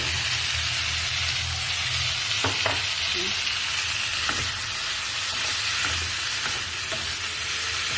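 String beans (sitaw) sauté in a hot pan with a loud, continuous close-up sizzle, broken now and then by soft scrapes and taps of a stirring utensil.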